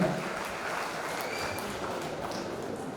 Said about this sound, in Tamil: மிகச்சிறப்பாக பேசிய தம்பி மணிமாறன் அவர்களை இந்த சபை மீண்டும் ஒரு முறை கைத்தட்டி பாராட்ட கடமைப்பட்டிருக்கிறது